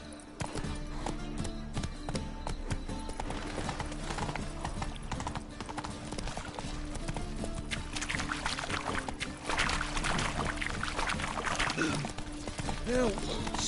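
Horse hooves clip-clop steadily in The Witcher 3 game, a continuous trotting rhythm under music and game ambience, with voices speaking over it.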